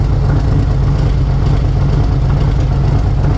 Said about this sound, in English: Started the motorcycle.